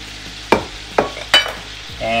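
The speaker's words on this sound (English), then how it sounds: "And now we're gonna put the fish back in." Mahi mahi fillets going back into a hot pan of garlic lemon sauce give three sharp sizzling bursts about half a second apart, then a steady frying hiss, close and loud, with no talking.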